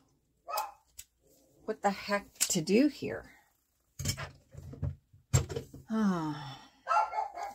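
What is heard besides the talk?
dog barking at a cat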